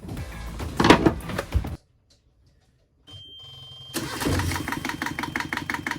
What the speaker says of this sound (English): I'll open the seacock for the raw water before I start the engine.